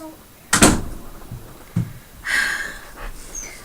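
A household door is pushed shut, giving a loud close thump followed by a softer knock, then rustling and breathing-like movement nearby, with no clear talking.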